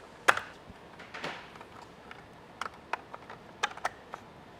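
Plastic turn signal clip on a 2016-2023 Toyota Tacoma mirror housing being pressed and popped loose, a few sharp close clicks and small plastic snaps scattered over near silence.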